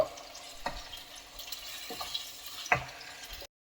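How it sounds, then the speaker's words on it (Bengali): Sliced onions and slit green chillies fry in hot oil in a home kitchen, a soft steady sizzle broken by several sharp stirring scrapes and clinks, close and fairly quiet, with no talking. "পেঁয়াজটা প্রায় ভাজা হয়ে গেছে"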